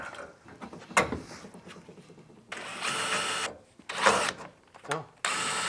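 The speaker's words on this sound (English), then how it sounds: "then there's a bigger hole we have to drill" A power drill bores holes in the aluminum hardtop of a Humvee being installed. Several loud, whining drill bursts of a second or so each stand out against quieter handling noise in between.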